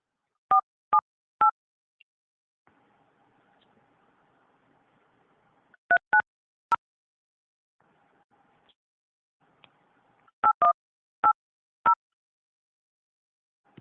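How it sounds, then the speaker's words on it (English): Several bursts of telephone keypad dialing tones, two or three quick beeps at a time with pauses between, sound close and clear over a faint steady hum, with no talking. "Go ahead and make the call then."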